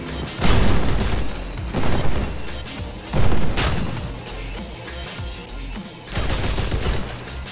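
Quad weapons firing at a Mammoth Cannon in the Crossout vehicle combat game: loud heavy booming volleys in four bursts, each followed by rumbling decay.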